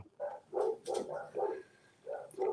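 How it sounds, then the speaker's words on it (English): Dogs barking upstairs indoors, seven or eight short, muffled barks in an uneven rhythm, heard faint and distant through the house. "You probably hear my dogs upstairs barking."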